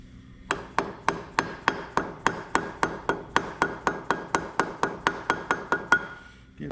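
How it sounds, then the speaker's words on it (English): Hammer tapping a front crankshaft oil seal into a David Brown 880 tractor, about twenty sharp, evenly spaced metallic taps in a steady rhythm, close and clear with no talking. "Need my hammer."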